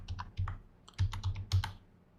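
Keys clatter on a computer keyboard in short bursts of quick, close clicks separated by brief pauses, with no voice over them.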